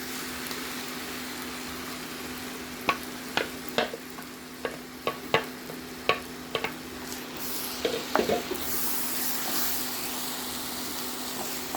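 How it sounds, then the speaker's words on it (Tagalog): Rice for Mexican rice is stirred after tomato puree goes in, with a run of sharp spoon knocks and scrapes against the pot over a steady hum, then a rising hiss of sizzling near the end. "Now let's add our tomato puree."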